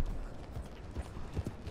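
Horse hooves clip-clopping at a steady riding pace in the Red Dead Redemption 2 video game, a continuous rhythmic run of soft thuds at moderate level with no talk over it.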